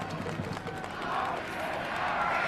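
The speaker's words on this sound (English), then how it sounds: "Listen to the crowd." Football stadium crowd at an Illinois State at New Hampshire college game, a broad steady roar of cheering that swells slightly louder midway and holds, with faint clapping mixed in.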